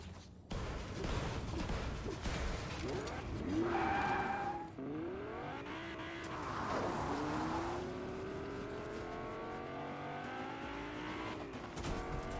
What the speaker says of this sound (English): So Siri and Lasix going to take the sports car.